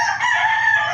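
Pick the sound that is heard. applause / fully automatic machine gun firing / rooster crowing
rooster crowing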